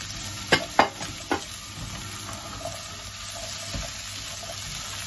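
A spoon stirs squash and string beans in a pot. A few sharp scraping strokes come first, then a soft, constant sizzle and bubbling continue alone.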